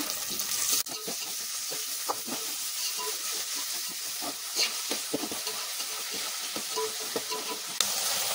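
Onions, green chillies and curry leaves being stirred in a hot pan for veg masala rice, with a steady sizzling hiss of frying broken by scattered scraping clicks of the spoon throughout.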